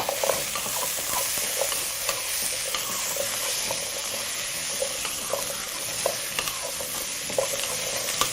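Eggplant, peppers and onions sautéing in a pan for a vegetable curry, a loud continuous sizzle with frequent small clicks and scrapes of stirring, close up and free of speech.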